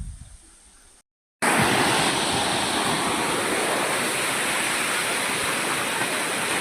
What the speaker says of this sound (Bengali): আমাদের গ্রামের অবস্থা শুধু মহাসাগর, চারিদিকে শুধু জল জল জল